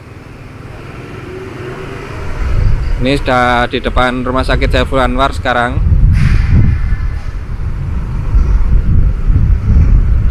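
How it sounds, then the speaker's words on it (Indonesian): A jammed city street on a Saturday night, cars and motorcycles crawling bumper to bumper in Malang, with a steady roar of engines and wind rumble throughout while someone talks over it. "lampu rem mobil, rem motor padat merayap macet"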